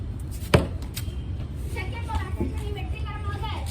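A fibre cricket bat strikes a ball once, a sharp loud knock near the start, followed by children's voices talking and playing in the background.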